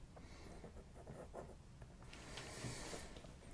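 A Yiren 562 fountain pen with a fine hooded nib scratches softly across paper in short, faint strokes, close and quiet with a light rustle.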